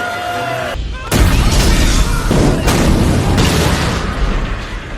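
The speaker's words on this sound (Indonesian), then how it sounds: "memanjat komedi putar untuk menangkap Arun, ia pun segera kabur dan meledakkan komedi putar itu hingga menjadikan tempat tersebut kuburan bagi para koboi di sana." A carousel is blown up in a western action film, with a sudden loud boom after a short quiet lead-in, followed by several rolling explosive bursts and rumbling debris that fill the rest.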